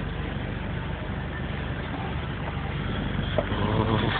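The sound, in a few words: person imitating an engine noise with the mouth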